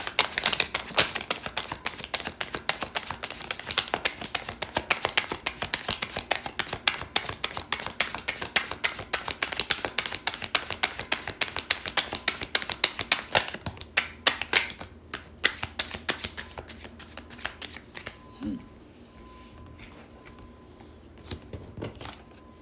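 Tarot cards are shuffled by hand up close in rapid riffling bursts and soft slaps, continuous for most of the stretch, then thinning to a few scattered card taps before falling quiet.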